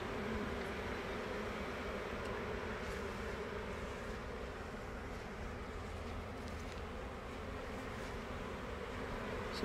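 Honey bees buzz steadily and densely inside a hive box holding a caught swarm, a continuous close drone that holds at an even level throughout with no talk.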